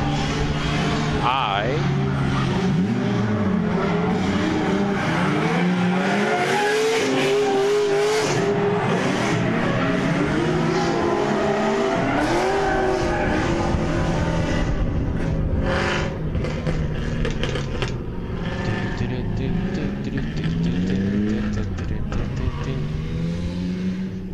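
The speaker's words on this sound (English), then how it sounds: "While the drifting action is taking place" Cars drifting at Palm Beach International Raceway during a birthday event: continuous loud engine roar with revving and long wavering tire squeals, heard from the stands over steady crowd chatter and nearby voices.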